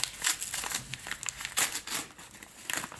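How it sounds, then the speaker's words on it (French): Packaging of Pokémon trading cards is torn open with crinkling and rustling, several short ripping bursts close up, fairly quiet overall. "Il y a moyen de déchirer, je déchire."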